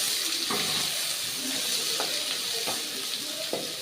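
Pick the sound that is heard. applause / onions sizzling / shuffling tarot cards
onions sizzling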